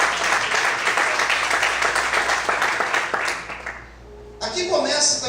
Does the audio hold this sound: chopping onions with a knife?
no